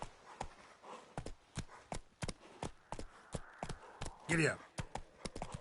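Horse hooves clip-clop in a steady running rhythm in The Witcher 3, close and fairly clear, while someone talks and calls out to the horse over the hoofbeats.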